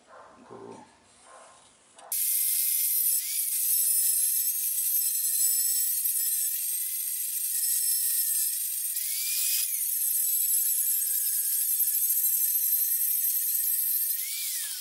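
A metal triangle is cut in half in a home workshop: after about two seconds of near quiet, a loud, steady, high-pitched cutting whine starts and runs continuously to the end, with slight dips in pitch.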